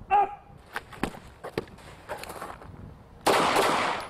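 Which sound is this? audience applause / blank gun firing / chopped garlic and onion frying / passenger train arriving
blank gun firing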